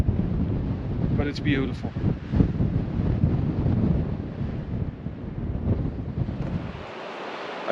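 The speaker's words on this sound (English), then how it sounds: "You probably cannot hear me because of the wind" Strong wind buffets the microphone at a mountain viewpoint overlooking a valley on a day hike in the Western Balkans, a steady loud rumble throughout, with a person speaking briefly over it.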